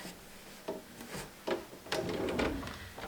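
Wiping and rubbing on 23-year-old wooden kitchen cabinet faces and drawer fronts, a series of short close scrubbing strokes that grow longer and busier toward the end, with no talking.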